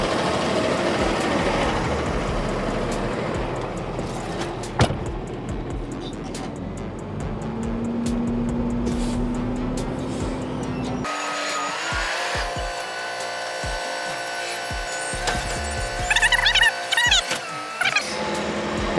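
A single-axle non-CDL truck hauls a 22-foot dumpster down a street, its engine droning steadily with road rumble and occasional rattles and clanks from the load.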